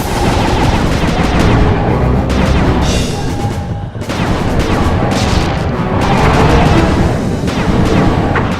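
Gunfire from the video game Sly Cooper 2: a dense, continuous burst of rapid shots and booming impacts that stays loud throughout, with a brief dip partway through.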